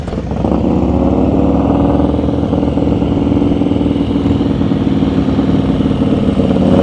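A motorcycle idles and putters at slow speed through clutch-control drills on a Maryland practice course, a steady, close, mid-pitched engine drone with small throttle changes and no talk over it.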